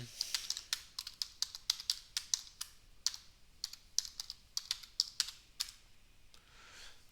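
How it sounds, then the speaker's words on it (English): Fingers tap quickly on a computer keyboard in irregular bursts of crisp, close clicks, with brief pauses between runs of keystrokes. "Type it in."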